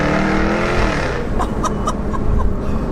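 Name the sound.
2018 Jaguar F-Type R Convertible accelerating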